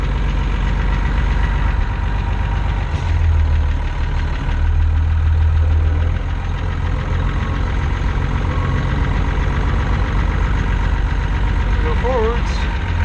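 A truck engine runs steadily with a low, rough throb while reversing in crawler range using a Johnson bar, continuous and fairly loud beneath a man's speech.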